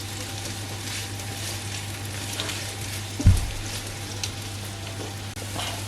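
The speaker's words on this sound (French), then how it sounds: "On va laisser mijoter tout doucement." Onions for a mhadjeb filling simmer gently in a frying pan, a steady soft sizzle with a low hum underneath and one brief knock partway through.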